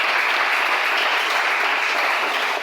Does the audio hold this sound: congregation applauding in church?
yes